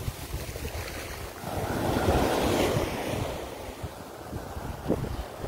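Ocean waves at Kribi roll in with a broad, rushing surge that builds and fades, under steady wind buffeting against the microphone.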